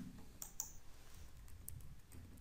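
A few quiet clicks on a computer keyboard as a command is typed, with soft, separate keystrokes over low room noise.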